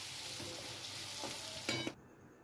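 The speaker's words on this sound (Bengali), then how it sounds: "এবার একটু লাল লাল করে ভেজে নেব" Salted potato pieces frying in oil in a pan, a continuous close sizzle with a couple of stirring scrapes near the end before it cuts off abruptly.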